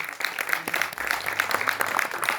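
An audience at a Samvidhan Divas event at IGNCA claps steadily and densely to welcome a student named Chandana onto the stage, a continuous patter of many hands at moderate volume.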